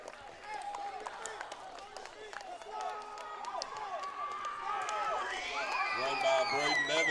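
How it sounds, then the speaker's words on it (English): A high school football crowd at Ranger Field cheers and shouts for the Rangers after a two-point conversion. The noise builds to a loud roar through the stretch, with whistles and scattered claps, and a commentator talks over it. "this crowd is going ham for the Rangers right now"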